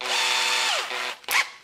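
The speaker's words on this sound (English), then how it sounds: "chuck it into your drill." A power drill spins an oversized decapping pin chucked like a mini lathe for cartridge case prep, whining at a steady pitch, winding down, then giving a short second burst, close and loud.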